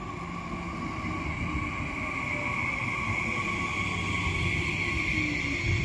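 RE54 Twindex class 445 double-deck train running from Bamberg to Frankfurt via Aschaffenburg, pulling into Gemünden am Main station at platform 5; a steady, loud rumbling roar with sustained tonal whine holds evenly throughout.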